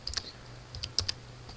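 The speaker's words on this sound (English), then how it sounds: "we're going to type in the dollar post variable" Keys clacking on a computer keyboard while PHP code is typed: a handful of quiet, sharp, irregular clicks in short bursts with pauses between, close up and with no talking.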